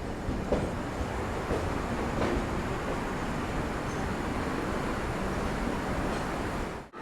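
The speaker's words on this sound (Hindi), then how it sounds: "इंडिया की लॉन्गेस्ट दुरंतो एक्सप्रेस पहुंची पनवेल, PNVL।" Duronto Express passenger train arriving at Panvel station in India: steady rumbling roar of rolling wagons with faint clanks throughout, heard from inside the train, cutting off abruptly at the end.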